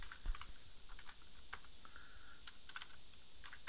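Quiet, irregular keystrokes tap on a computer keyboard, coming in quick soft clusters close to the microphone.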